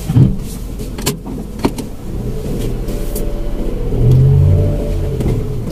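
Manual car pulling away, a low engine hum that rises steadily as it revs and gains speed, with a few faint clicks and knocks at the start and no talk.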